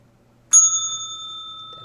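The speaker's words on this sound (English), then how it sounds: "That bell's for you." A single bright bell strike, like a bicycle bell, rings out clearly and then sustains with a slowly fading metallic tone in a quiet room.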